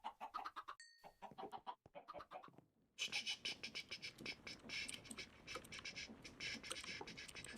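Minecraft chickens cluck repeatedly in a modded game world, with a steady run of short fowl calls and light scratching that grows denser partway through.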